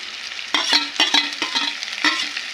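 Chopped onions and green chilies sizzling and frying in a pan for dal makhani, with repeated scraping stirs every half second or so over a steady hiss, close and fairly loud.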